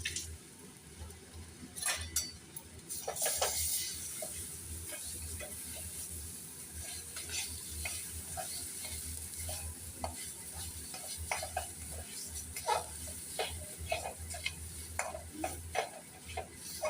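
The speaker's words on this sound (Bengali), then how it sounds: "আদা ও কাঁচা লঙ্কাটা ভালো করে ভাজা হয়ে গেছে। এবার বেটে রাখা ডালটা দিয়ে দেবো।" Crushed ginger and green chili fry with ground lentil paste in a pan, a soft continuous sizzle broken by frequent stirring scrapes and light clinks of utensil on metal, no speech.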